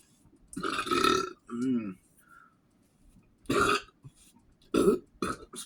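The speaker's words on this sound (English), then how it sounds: "I'm surprised I lasted this long without burping." Several loud, drawn-out burps come close to the mic after a meal of homemade pepperoni, mozzarella, garlic and onion pizza. They arrive in separate bursts with short quiet gaps between them.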